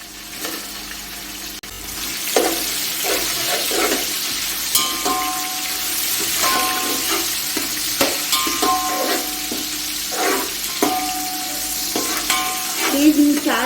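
Whole spices, cinnamon and cloves, fry in oil for kofta pulao, with a continuous close sizzle and frequent clinks and scrapes of stirring throughout.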